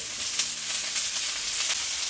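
Tekirdağ köfte meatballs frying in oil, a loud close crackling sizzle with small rhythmic spits and pops, steady and alone.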